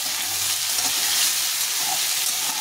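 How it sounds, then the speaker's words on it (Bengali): Potato pieces with cumin sizzle in hot oil over high heat, a steady dense frying hiss that holds evenly throughout with no voices. "আলুটাকে একটু ভেজে নেব, সুন্দরভাবে একটু ভেজে নিতে হবে। হিটটা বাড়িয়ে দিয়ে ভাজতে হবে।"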